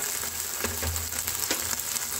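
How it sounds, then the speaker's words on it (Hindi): Finely chopped onion hits hot oil in a pan of frying street-style chicken Maggi, giving a steady close sizzle with a few soft stirring knocks and no talk. "अब हम इसमें डाल देंगे बारीक कटी प्याज।"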